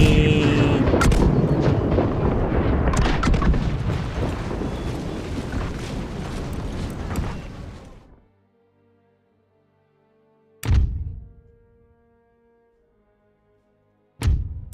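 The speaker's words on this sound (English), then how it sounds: "I do not mind getting hit by artillery fire" Artillery fire in Empire Total War: a dense, continuous barrage of booming cannon shots for several seconds that cuts to silence, then two separate heavy blasts with lingering rumble.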